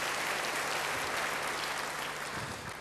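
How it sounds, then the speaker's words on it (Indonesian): A church congregation applauding, a dense even wash of clapping hands that holds steady through the moment before easing slightly at the end. "Yang senang, tepuk tangan bagi dia."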